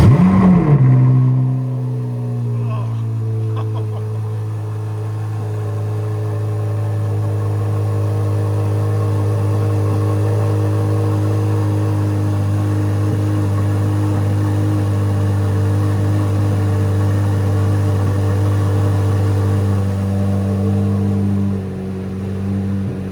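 A C8 Corvette Z06 engine holds a deep, steady rumbling exhaust drone after a brief rev at the start, loud and close, with no voices.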